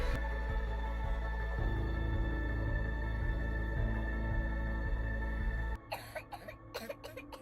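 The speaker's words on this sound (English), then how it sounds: "These coughs, man." In the game Devil May Cry, several harsh coughs near the end, breaking through after a loud droning hum and music cuts off.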